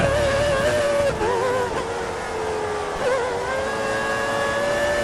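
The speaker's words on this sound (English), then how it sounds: "I just keep hitting the rev limiter" A simulated Formula 1 car engine in a racing video game howls at high revs, its tone wavering and bouncing against the rev limiter in a constant, loud, close drone with no talk.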